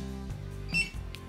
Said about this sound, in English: Once it beeps at you, you let go.